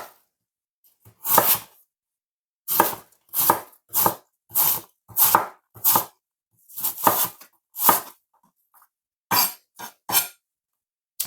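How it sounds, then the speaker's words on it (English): A knife chopping apple for small tarts on a cutting board, about a dozen separate sharp thuds in irregular bursts with quiet pauses between, close and clear. "So apple is finished cut up."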